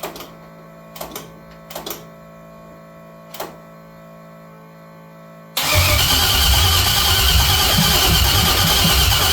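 An LS-swapped 1968 Cadillac hearse cranks with a few short clicks and brief turnovers over a quiet electrical hum, then a loud, steady rough engine roar bursts in and continues.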